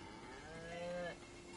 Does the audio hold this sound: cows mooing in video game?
yes